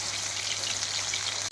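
Chopped onions hiss and sizzle steadily in hot oil in a pan for a Dupuriya mangsho dish, a dense, bright crackle that holds even throughout.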